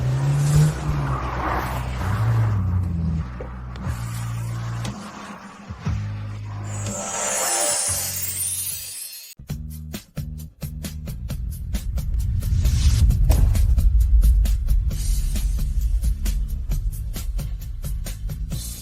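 A car driving fast in a chase, engine roar and tire noise with sharp shifts and a burst of rapid rhythmic pulses, building to a loud low rumble toward the end.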